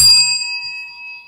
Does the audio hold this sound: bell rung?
yes